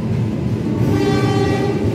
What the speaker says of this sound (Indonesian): Kereta api Fajar Utama Solo